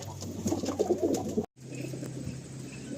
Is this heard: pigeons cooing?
yes